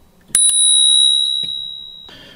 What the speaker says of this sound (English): Literally, there's a bell on the front.